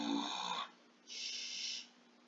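A cartoon character snores loudly in two drawn-out breaths, a rumbling inhale followed by a pause and a hissing exhale, heard alone over a faint steady hum.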